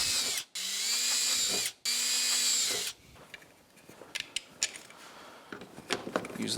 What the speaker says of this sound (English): And we're using a 1564 drill bit.